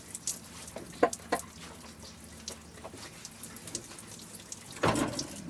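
Water from a hose in an off-grid water heater setup spatters and trickles in uneven bursts, with a louder gush near the end, fairly quiet and close.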